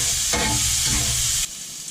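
Steak and onions being mixed in a hot cast iron pan, a loud, steady sizzle with scraping stir strokes that suddenly drops in intensity near the end.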